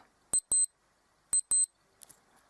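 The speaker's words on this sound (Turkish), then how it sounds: "bunu daha fazla çaldırmak isterseniz alarm sesi budur" A Casio BGS-100 digital watch alarm chirps two quick pairs of sharp, high-pitched electronic beeps about a second apart, followed by faint clicks.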